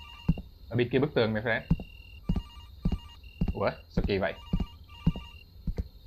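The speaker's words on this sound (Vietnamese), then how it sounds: "Ủa mà sao điện thoại lên bên này?" Inside the horror video game Nightfall Security, a telephone rings in repeated electronic bursts at a steady rhythm, while someone talks over it in between the rings.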